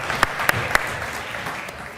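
A conference audience applauds panel speakers on cybersecurity and Silicon Valley at South Summit, a brief burst with a few sharp claps standing out before it fades.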